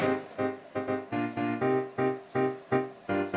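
Piano riff for the outro of a beat remix, a steady rhythmic run of about a dozen evenly spaced, punchy chords, close and clear with nothing else playing.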